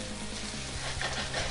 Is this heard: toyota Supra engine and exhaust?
no